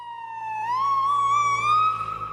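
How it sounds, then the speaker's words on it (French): An ambulance siren holds a steady wailing tone whose pitch climbs smoothly as it draws nearer, loud and alone with no voices. "le changement de tonalité d'une ambulance quand elle se rapproche ou elle s'éloigne"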